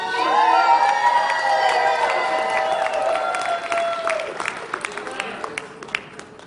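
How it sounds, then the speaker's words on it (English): A large crowd yells, screams and cheers loudly at a union pre-lobby rally for a legislative day, a dense roar that fades after a few seconds into scattered shouts and claps. "I need everybody to yell and scream"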